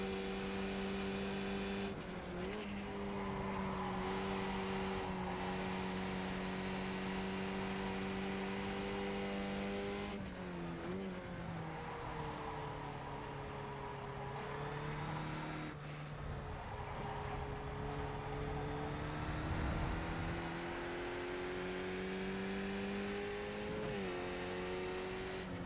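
Race car engine in a sim racing game, loud and continuous, revving up and down through gear changes and brief lifts in steady passes, with no talking.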